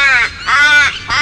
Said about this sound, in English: It soon became very popular, with noisy visitors like ravens.